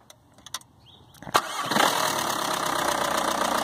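A VW Mk4 TDI diesel engine with a working anti-shudder valve starts after a few clicks, cranks briefly, then settles into a loud, steady idle close by.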